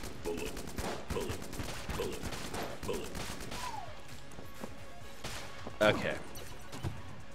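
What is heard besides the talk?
gunshots hitting enemies in the video game Die/Repeat/Die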